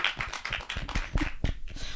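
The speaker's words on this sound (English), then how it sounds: "I'm loving this round of applause" Applause at the British Independent Film Awards craft winners announcement after Best Editing goes to All of Us Strangers, a modest crowd of about a hundred clapping steadily with a dense patter of hand claps that swells slightly midway.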